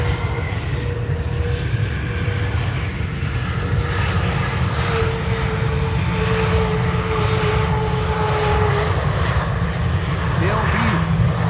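Lufthansa flight 2302 from Munich arriving at Amsterdam Schiphol, its engines giving a steady heavy rumble with a whining tone over it, fairly close, and a voice speaks over the noise.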